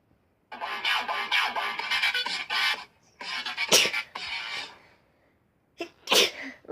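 A comedy sneeze sound effect plays as a quick string of sharp, loud sneezes, several bursts in a row separated by short pauses, with nothing else underneath.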